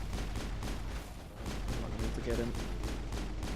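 Rapid, repeated gunfire from the Mass Effect video game during a firefight, played as a dense continuous burst of shots at moderate level. A voice speaks briefly over it.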